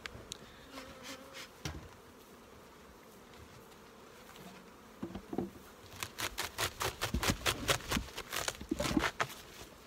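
Honey bees buzz around healthy hives in an apiary, a steady insect hum with sharper, louder passes of individual bees coming close in the second half, and no talking.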